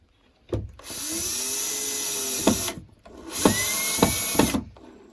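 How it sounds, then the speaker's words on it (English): A power drill whirs in two sustained bursts, stopping and restarting, with sharp clicks and knocks as it bites into wood up close while building a bushcraft cabin. "Hit it with the drill."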